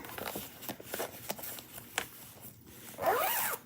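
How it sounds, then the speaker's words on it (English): A zipper is pulled closed along a holiday throw pillow cover in a series of short, close, crisp zips, ending with one longer, louder pull. "and zip it"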